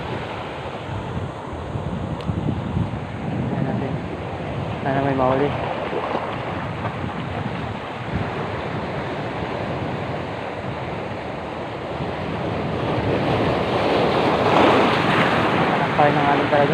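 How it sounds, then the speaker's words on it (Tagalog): Steady ocean surf washes along the shore with wind rumbling in the mic, while a person speaks briefly partway through. "May kunting alon pa din talaga."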